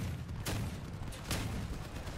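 Gunfire in the vehicle combat game Crossout thuds out as two sharp, moderately loud shots about a second apart over a low rumbling engine bed.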